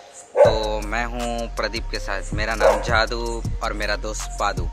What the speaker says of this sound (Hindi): मेरा कुत्ता भौंक रहा, उसकी आवाज़ आ रही है